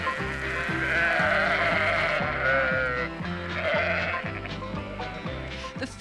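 Sheep bleating on an Australian outback station, several overlapping calls carrying over steady background music, fairly loud and continuous throughout.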